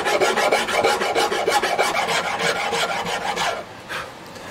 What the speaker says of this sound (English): I'm using a double cut rasp.